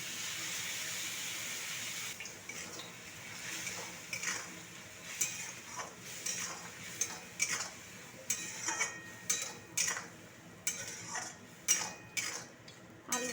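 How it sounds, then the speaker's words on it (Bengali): Metal utensil scraping and clinking in a pan, with soft sizzling from onion greens and poppy seeds frying, steady and close, no voices. "পেঁয়াজ শাকটা দেখুন ভাজা ভাজা হয়ে গেছে এবার আমি পোস্তটা ফেলে দিলাম"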